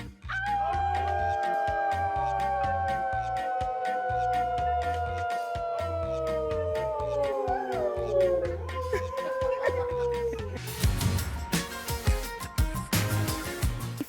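Caramelo, a therapy dog, howls in long, sustained, wavering tones with sliding pitch for about ten seconds, followed by scattered clattering and busy background noise.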